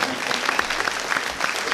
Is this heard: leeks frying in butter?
no